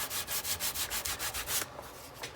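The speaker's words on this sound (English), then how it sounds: "you can just take it the rest of the way with sandpaper" Sandpaper rubbed by hand along plywood edge banding, a quick run of rhythmic back-and-forth scrubbing strokes, close and fairly loud, easing off into lighter strokes at the end.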